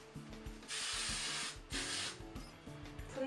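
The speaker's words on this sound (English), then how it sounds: "And I'm just going to spray it." Hairspray is sprayed onto short hair styled in old Hollywood finger waves, two soft hissing bursts of about a second each, heard near against a quiet ticking mechanical background.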